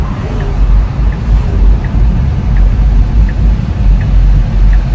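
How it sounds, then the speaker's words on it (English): An electric car on the move gives a steady, low road and tyre hum that holds evenly throughout, with no engine note. "This is my first time ever driving an electric vehicle."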